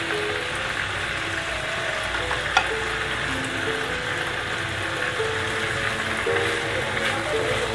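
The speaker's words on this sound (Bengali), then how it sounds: "আমি 3 পিস চিকেন ভিতরে দিয়ে দিচ্ছি এবং আঁচটা, চুলার আঁচটা আমি মিডিয়াম টু লোতে রেখেছি।" Three pieces of marinated chicken for stovetop tandoori chicken sizzle in a pan over medium-low heat, a steady close crackle with small pops throughout, no talking.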